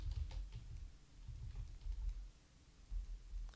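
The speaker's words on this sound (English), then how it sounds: "I'm just typing it out." Typing on a computer keyboard during a War of the Ring board game session, a quiet stretch of soft, irregular key clicks with low room rumble and no talking.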